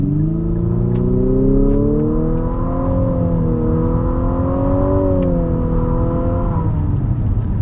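A 2022 Infiniti QX55 with a CVT pulls away from a start, its engine drone rising in a smooth, steady climb that dips and swells slightly as it gains speed. The sound is loud and continuous, with no voices.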